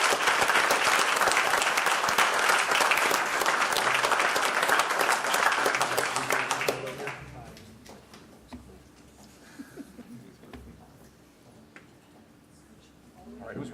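An audience at the Schaumburg village board meeting gives loud, sustained applause for about seven seconds, which then tapers off into a quiet room with scattered small noises.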